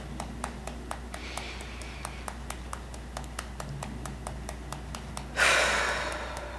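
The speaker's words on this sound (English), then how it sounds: "Take a deep breath in." A single deep, rushing breath in during a guided breathing practice for the skin, drawn late and close, over a steady faint ticking.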